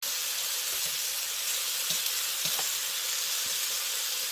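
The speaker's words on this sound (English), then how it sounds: "Listen to this sizzle" Steak sizzles hard in a hot wok, a constant close crackling hiss with occasional soft pops and stirring knocks, loud and even throughout with no talking.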